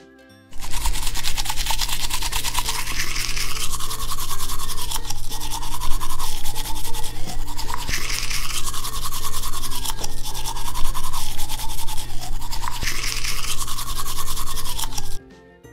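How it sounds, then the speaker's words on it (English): A toothbrush scrubs the teeth of a Play-Doh toy head in steady, continuous rapid brushing strokes, close and loud, with brief pauses every few seconds before resuming. "let's start by brushing your teeth."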